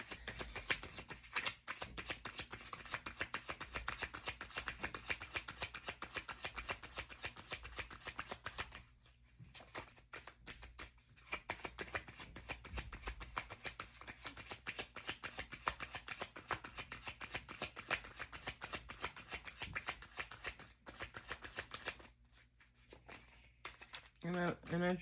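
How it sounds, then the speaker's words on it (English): Tarot cards are shuffled close by in quick, repeated riffling bursts with brief pauses, while a voice talks softly throughout. "I feel like when I shuffle it's so loud"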